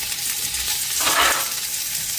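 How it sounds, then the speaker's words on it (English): Potatoes sizzle and fry in a hot pan for home fries, a steady close crackling hiss that swells briefly near the middle, with no talking. "now you hear the sizzle"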